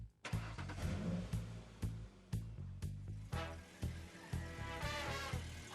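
A cartoon car engine revs repeatedly in a rhythmic series of loud bursts, each rise clipped off sharply, with music-like tones running underneath throughout.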